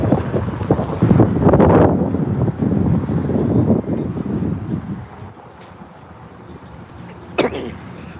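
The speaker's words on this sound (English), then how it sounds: "that wind is bad out here today" Strong outdoor wind buffets the microphone at a street protest in Fort Worth, with heavy low rumbling gusts that ease off partway through and a brief sharp bump near the end.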